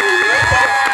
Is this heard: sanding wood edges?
no